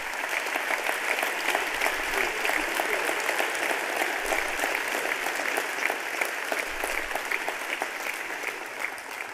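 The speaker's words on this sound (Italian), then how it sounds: "Un applauso per Franco, grazie." Sustained applause from a crowd at a film festival awards ceremony, steady dense clapping that continues without pause for several seconds, fairly loud and even throughout.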